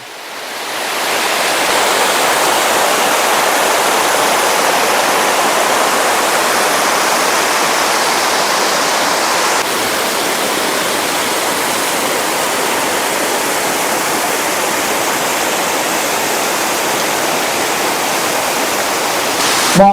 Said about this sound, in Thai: มันไหลเหมือนกับน้ำตกเต่าดำเลยครับ